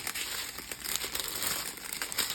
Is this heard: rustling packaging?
yes